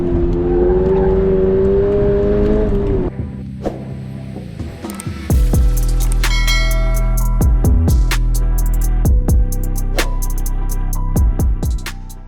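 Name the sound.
Honda NSX driving fast on a race track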